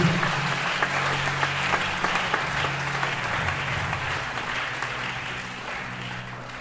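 A church congregation applauds steadily, a dense continuous clapping that holds throughout with no voices rising above it.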